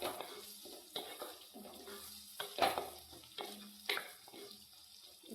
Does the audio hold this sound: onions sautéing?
yes